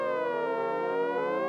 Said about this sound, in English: you hear them sirens?